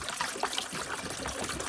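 2% milk is poured into a stock pot in a steady, close trickling stream, a continuous splashing, gurgling wash with no pauses.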